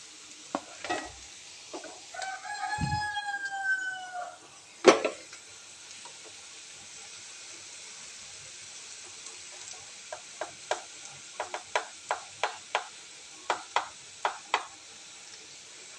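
Curry leaves and spices frying in a pan for a mushroom curry, with a loud sizzle in the first seconds, a sharp knock, then a quiet stretch broken by a run of crisp, evenly spaced ticks and pops.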